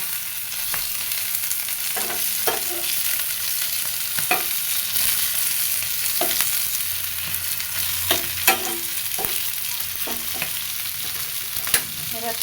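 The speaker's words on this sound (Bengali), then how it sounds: "ভাজা হয়ে গেছে এবারে পেঁয়াজ আর কাঁচামরিচের সাথে ভালো করে মিশিয়ে নিব" Fried fish tossed with onion and green chili in a hot pan, a continuous sizzle broken by repeated scraping stirs of a spatula, close and steady with no talk.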